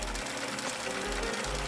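Sewing machine stitching a double fold hem on the top and bottom edges of a long puff sleeve top, a steady close mechanical whirr with a low hum that pauses briefly and restarts.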